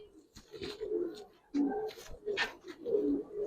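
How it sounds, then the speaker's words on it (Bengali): Giribaz pigeons coo in repeated low, throaty phrases close by, with a few short breaks between bursts. "দেখেন এত সুন্দর কবুতরটা মাশাআল্লাহ"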